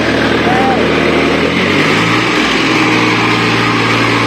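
Loud, constant drone of a tractor engine powering a machine that mixes clay mud for bricks, revving and shifting in pitch partway through, close and dominant with no clear talk over it.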